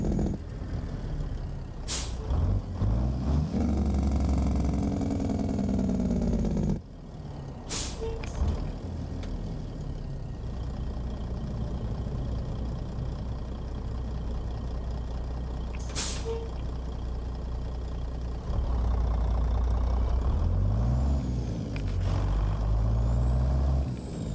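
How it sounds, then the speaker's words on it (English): In American Truck Simulator, a truck engine revs up after a missed gear, its pitch climbing in long swells between sharp, loud air brake hisses that burst out several times. "that's what it sounds like when you miss a gear. You just start revving the engine."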